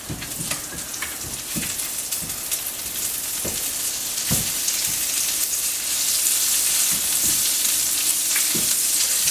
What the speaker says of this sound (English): we're going to add 6 tablespoons of butter. And we're going to just put this in until it's melted